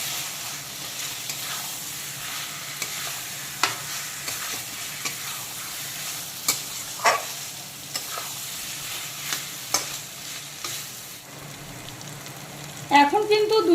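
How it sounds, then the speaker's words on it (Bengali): Fried potatoes being stir-fried with spices in a pan make a continuous close sizzle, broken by regular scraping taps of a spatula, with a louder clattering stir near the end and no voices. "আলুগুলোকেও একইভাবে দুই তিন মিনিট কষিয়ে নেব ভালো মতো মশলার সঙ্গে"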